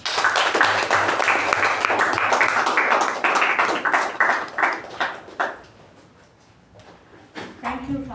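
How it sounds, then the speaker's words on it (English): Applause from a small audience at a Toastmasters club meeting, a close, energetic burst of clapping that fades out after about five seconds, followed by quiet and a few soft knocks. "So please, with a big round of applause, give it up for our President Toastmaster Latha"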